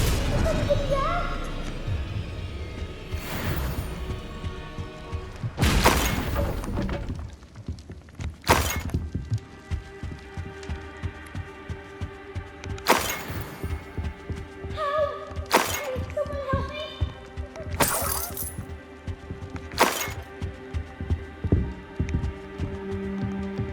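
The Bombarda blasting spell goes off in Hogwarts Legacy during a duel, sharp explosive bursts and shattering impacts recurring over a steady humming game background.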